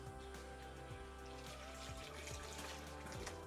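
Soapy wash water runs steadily while a polytunnel is cleaned, a faint continuous wash of liquid alongside a low background hum and occasional soft knocks.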